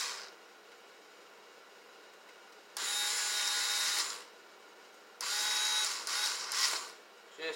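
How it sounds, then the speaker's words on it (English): A small Craftsman cordless screwdriver drives screws on an 80cc motorized bike in two short whirring bursts, the second stuttering into quick pulses, with quiet pauses between and no voices. "I'm just using a little Craftsman cordless screwdriver."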